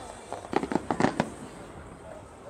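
Fireworks or firecrackers at the Global Village fairground in Dubai: a quick cluster of sharp crackling pops in the first second, fairly distant and soft, then fading into quieter ambient noise.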